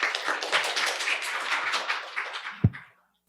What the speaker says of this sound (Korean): 앞으로 나오셨는데 격려의 박수 부탁드리겠습니다.